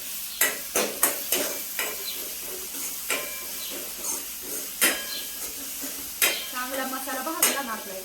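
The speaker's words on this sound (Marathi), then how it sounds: "तिथं दोन पळे तेल ठेवलेलं आम्ही गरम करायला आणि मसाला केलेला पूर्ण याच्यामध्ये टाकायचा" Spice paste (masala) frying in hot oil for a green moong curry, a steady close sizzle punctuated by repeated sharp clinks and scrapes of a stirring spoon against the pan.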